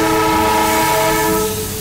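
Darjeeling toy train passing close by, a loud, sustained horn blast with steady rumble underneath, fading slightly toward the end.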